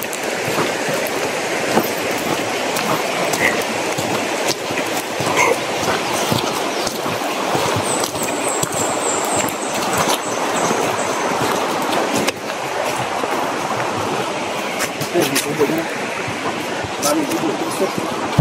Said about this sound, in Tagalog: Ito yung sapa, ito yung siguro yung malapad na sapa sa Banwag.